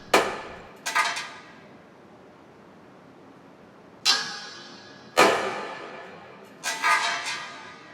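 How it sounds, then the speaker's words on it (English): An impact tester's swinging hammer striking an aluminum specimen in a materials lab, a few sharp metallic clanks spaced seconds apart, each ringing briefly before fading, close and clear. "The hammer will impact the specimen."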